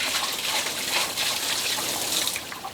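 Water pours out in a steady splashing gush for a few seconds, near and continuous, with no talking.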